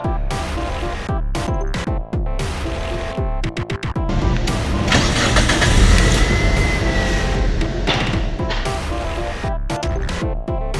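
A car engine is started with a push start/stop button, a loud close mechanical churn and clatter of cranking that swells into a running engine roar over about ten seconds.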